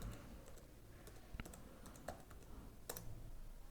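A computer keyboard is tapped in scattered, irregular keystrokes, including a firmer press like an Enter key, close but fairly quiet over a low steady background hum.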